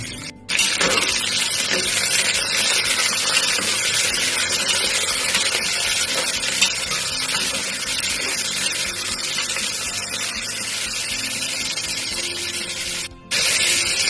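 Chopped tomatoes, a dried red chilli and slit green chillies hit hot oil with potatoes in a pan for a vegetarian potato curry, producing a loud, steady, close sizzling hiss that runs unbroken for over ten seconds.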